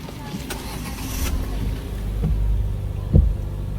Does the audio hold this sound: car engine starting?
yes